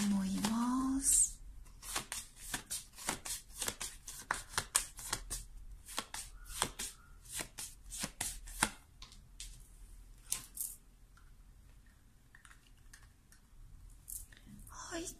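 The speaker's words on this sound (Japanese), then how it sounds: "タロットね、シャッフルしてるんだけど" Tarot cards shuffled in a run of crisp, rapid riffling clicks and slaps, close and fairly quiet, with a brief voice at the start and sparser card taps toward the end.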